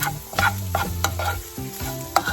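A spoon stirs sofrito around a hot frying pan, scraping in quick uneven strokes over a steady sizzle, close and fairly quiet with no talking.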